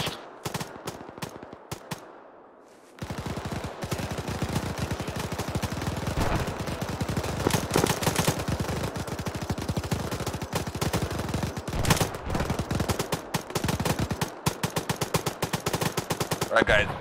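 Sustained machine gun fire from an MG bunker in a military video game, dense rapid bursts that start after a brief quieter opening and continue loud and unbroken for most of the stretch.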